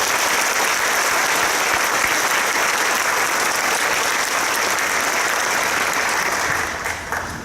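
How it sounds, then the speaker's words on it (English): A crowd at a high school graduation ceremony applauds attendees, loud, dense clapping from many hands filling a large space, steady for about seven seconds before fading near the end. "Let's give them a round of applause for attending."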